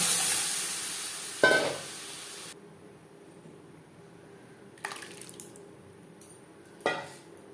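Dal hits hot oil with fried cumin seeds, a bay leaf and dry chilli, letting out a loud hissing sizzle that cuts off, then quieter hissing and a few short spitting bursts.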